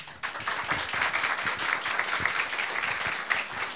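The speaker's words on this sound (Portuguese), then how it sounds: "Pedir uma salva de palmas." A room audience applauds after an interview talk, with dense overlapping claps carrying on at a moderate, steady level throughout, some individual hand claps standing out.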